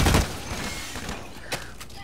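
Gunfire from a sniper rifle in the PC shooter Blacklight Retribution, a loud burst at the start followed by a couple of quieter shots, with game ambience between them.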